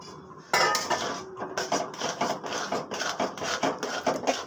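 Semolina is poured slowly into a pan and stirred over a very low flame, giving a run of close, rhythmic metallic scrapes and clinks that starts abruptly and continues steadily.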